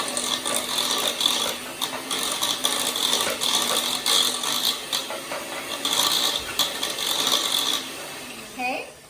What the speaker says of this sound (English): use my handy mandy here and just mix up the potatoes